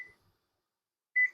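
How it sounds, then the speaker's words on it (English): A kitchen timer is set for processing a boiling-water canning batch of pickled banana peppers, giving two short electronic beeps, one at the start and one near the end, with silence between. "So I'm going to set my timer now that the water is boiling."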